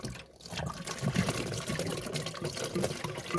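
Water running and trickling from a Daikin heat pump, a steady liquid flow with splashy texture heard fairly close and continuous throughout.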